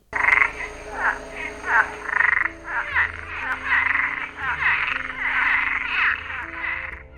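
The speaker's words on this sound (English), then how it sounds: "This is the Cuban tree frog." A Cuban tree frog, an invasive species in Jamaica, calls loudly and close by in rapid raspy croaking bursts that repeat across several seconds, with a low musical tone underneath.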